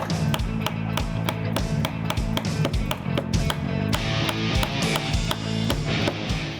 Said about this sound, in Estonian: paneme siia otse peale natukene liimi ka, palju pole vaja ja koputame seda sisse